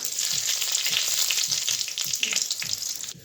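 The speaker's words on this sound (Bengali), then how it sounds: "তেলটা গরম হয়ে গেছে, তো দিয়ে দিব 5 ফোড়ন, তেজপাতা, শুকনা লঙ্কা।" Panch phoron, bay leaf and dried red chilli crackle and sizzle in hot refined oil, a steady dense frying hiss with light popping throughout, tapering off at the very end.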